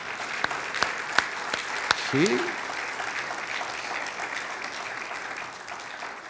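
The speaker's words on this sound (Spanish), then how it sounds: "¿No le das un aplauso al Señor?" Congregation applauding in a church during a sermon, a broad steady wash of clapping throughout with a few louder individual claps and a brief spoken voice near the start.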